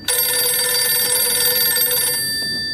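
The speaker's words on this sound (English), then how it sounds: "When that phone rings in the TARDIS." A telephone rings inside the TARDIS in the Doctor Who episode The Empty Child, a loud, continuous bright ringing that holds steady and then fades slightly at the end, with no voices over it.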